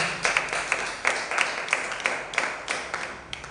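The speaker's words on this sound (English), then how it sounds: "Please clap for God now." An audience at a creative writing bootcamp claps in sparse, uneven bursts, with individual sharp claps scattered across a moderately distant room rather than a full ovation.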